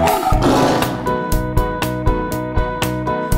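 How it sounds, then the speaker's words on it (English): A tiger roar used as a children's song sound cue, loud and close, rising into a broad growl before steady rhythmic music takes over beneath it. "3, 2, 1. A tiger."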